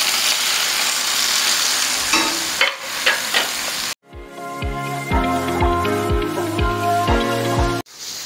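Minced meat (keema) dropped onto fried onions on a hot tawa, starting as a steady loud sizzle, then a sharp burst of frying with repeated stirring scrapes and crackles.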